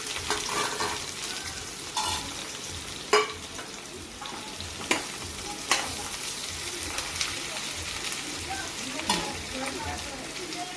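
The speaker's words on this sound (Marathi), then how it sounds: "मसाले फ्राय झाल्यानंतर कांदा फार फ्राय करूया" Onion and whole garam masala spices sizzle in oil for a homestyle chicken masala, a steady close frying hiss broken by occasional scraping stirs of a spoon against the pan, with no voices.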